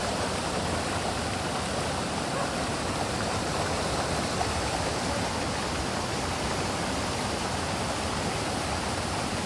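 Rain-swollen water gushes out in a steady, dense shower-like rush beside a large rain-worn pit, loud and unbroken throughout with no voices.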